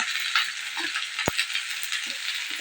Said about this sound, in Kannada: ಎಣ್ಣೆ ಕಾದತ್ರಿ ಎಣ್ಣೆಗೆ ಈಗ ಏನೇನು ಉಳ್ಳಾಗಡ್ಡಿ ರೀ ಕರಿಬೇವ ಹಸಿ ಶುಂಠಿ ನೋಡ್ರಿ ಅಷ್ಟು ಹಾಕಿ ಚಂದ ಫ್ರೈ ಮಾಡ್ಬೇಕಂತ